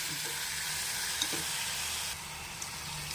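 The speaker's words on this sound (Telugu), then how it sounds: "ఉల్లిపాయ, టమాటా, కొంచెం వేగనివ్వాలి." Chopped onion and tomato fry in hot oil in a pan for a prawn and brinjal curry, a loud, steady, broadband sizzle with a few faint stirring knocks and no talk.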